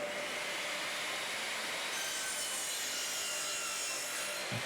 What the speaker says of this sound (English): We'll give ourselves a 45 degree mitre cut.